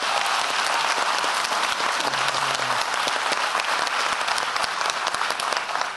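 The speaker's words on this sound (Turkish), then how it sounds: "Büyük alkış" A studio audience applauds loudly and steadily for the performers of a comedy sketch show, a dense, even wash of clapping throughout with a brief voice under it.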